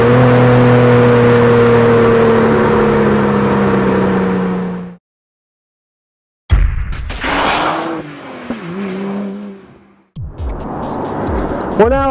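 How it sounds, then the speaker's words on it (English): A BMW 1M's inline-six engine holds a steady, loud drone at around 3,000 rpm, cuts out briefly, then revs again in rising and falling sweeps with some whirring, close up. "it's got an inline-6 motor here"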